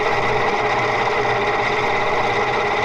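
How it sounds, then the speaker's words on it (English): Commercial-quality open gear set running at 1000 RPM, a loud, steady mechanical whine and rapid meshing rattle, close and unbroken, with no voices. "open gear set of commercial quality running at 750 RPM. Now running at 1000 RPM."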